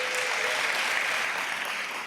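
Sustained audience applause fills a large hall during a New York governor's 2024 State of the State address, steady and dense clapping from a big crowd throughout, with no speech over it.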